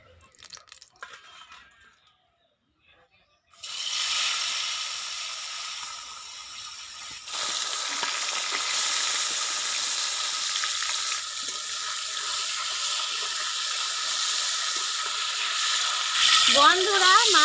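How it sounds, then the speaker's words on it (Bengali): Fish frying in mustard oil in a wok for a Bengali fish curry: a steady, close hiss and sizzle runs from a few seconds in to the end, with faint clatter earlier and a brief voice near the close. "মাছ ভাজার জন্য কড়াইতে দিচ্ছি সরষের তেল।"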